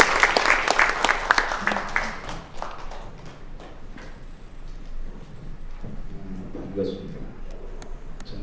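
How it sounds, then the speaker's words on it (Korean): Applause at an evening church prayer meeting, a dense burst of clapping filling the first few seconds and then fading, with voices and a low murmur continuing underneath. "우리 뜨거운 박수로 보내겠습니다."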